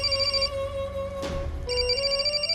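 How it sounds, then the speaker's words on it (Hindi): An electronic phone ringtone chirps in a repeating melodic pattern, loud and close, briefly interrupted by a short noise burst midway. "फोन है।"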